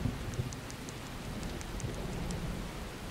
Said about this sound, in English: Suddenly, it starts raining. It's starting to rain.